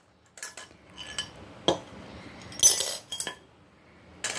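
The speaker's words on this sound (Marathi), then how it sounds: "बघा, येतोय ना मंडळी आवाज बांगडी आणि ग्लासचा?" Glass bangles dropped one by one into a drinking glass during a timed party game, producing scattered bright clinks and chimes of varying loudness with small rattles between them.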